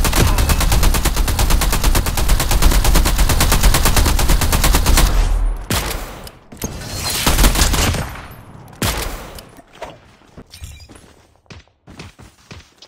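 Gunfire in Call of Duty Mobile, where a sniper rifle is in use: a long stretch of rapid, loud shots gives way to several separate heavy cracks with short gaps between them.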